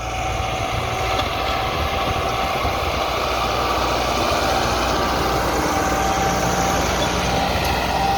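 A Massey Ferguson MF 375 tractor engine running steadily, a loud, close diesel rumble with constant vibration and no change in pace, alone without talk.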